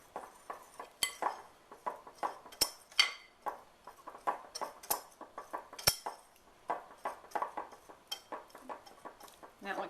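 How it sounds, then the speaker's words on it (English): A whisk beating cake flour, cocoa powder and salt together in a bowl for red velvet cupcakes, rapid rhythmic clinking and scraping of metal against the bowl, close and fairly quiet, sometimes with brief louder knocks. "we're going to just whisk this together and make sure it's all distributed evenly"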